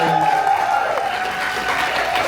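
A live audience at a business talk event breaks into a sustained round of applause, dense and steady for a couple of seconds, with a little crowd noise mixed in.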